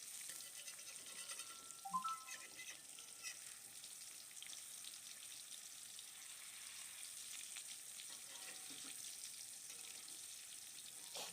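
Tofu pieces frying in a slightly sticky wok give a faint, steady sizzle and crackle throughout, with a brief clatter of utensils near the start and no talking.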